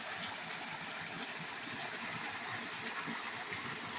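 Steady broadband rush of a spring-fed waterfall at Falling Springs Mill near Winona, Missouri, continuous and fairly close with no talk over it.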